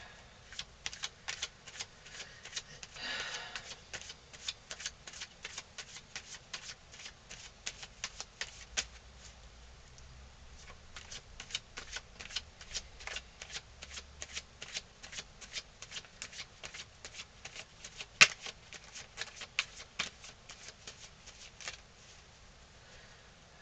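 Tarot cards shuffled by hand close up, rapid riffling flutters in repeated bursts with crisp card snaps and a few sharper taps, fairly quiet, with no talking.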